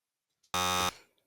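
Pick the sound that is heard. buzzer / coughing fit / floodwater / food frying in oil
buzzer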